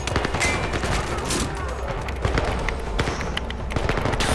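Rapid fire from a floppy gun in a video game: a fast, continuous stream of overlapping shots with punchy low thuds, loud and unbroken throughout.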